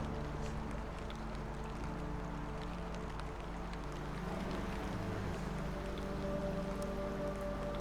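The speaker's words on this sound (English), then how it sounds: "It is actually rather nice listening to the rain and whatnot." Steady rain hisses and patters without pause in the video game The Black Grimoire: Cursebreaker, with soft, sustained tones humming underneath.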